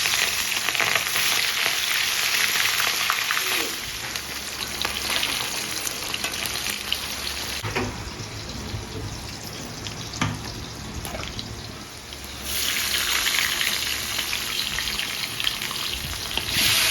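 Hilsa fish frying in a pan, a steady, close hiss and crackle of hot oil running throughout with a short dip and swell near the end, no voices.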